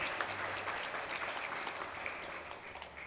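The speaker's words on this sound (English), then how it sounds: "So we'd like to sincerely thank Maharaj with a round of applause for this wonderful class" Steady audience applause from a Sunday love feast gathering thanking a visiting swami after his class, a dense wash of many hands clapping at a constant level throughout.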